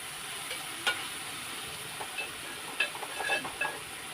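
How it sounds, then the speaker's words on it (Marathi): Tomatoes sauté in hot oil for a Maharashtrian fresh-shrimp kalvan, giving a continuous close sizzle broken by a few light spoon scrapes and clinks. "आता मी हे तेलामध्ये परतून घेते टमाटर"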